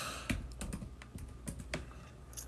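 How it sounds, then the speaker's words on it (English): Irregular clicking of fingers typing on a computer keyboard, quick close keystrokes in uneven bursts with short pauses, no voices. "We're just typing in your information"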